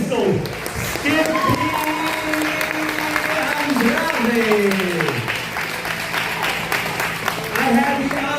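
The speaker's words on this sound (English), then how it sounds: "Please give him a big round of applause" Audience at an amateur boxing event applauding a boxer, a sustained wash of clapping and crowd noise running under a ring announcer's loud amplified voice.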